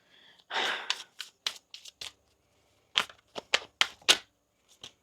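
Tarot cards are shuffled by hand in a run of sharp riffling bursts and snaps, a long riffle first, then quick separate flicks in clusters; close and alone, with no talking.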